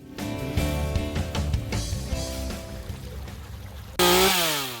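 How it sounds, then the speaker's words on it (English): A chainsaw cutting wet trees to clear a trail drones and bogs as it cuts, revving unevenly, then snaps to a loud, high whine near the end. "making the chainsaws have to work extra hard and dulling those chains out pretty quickly"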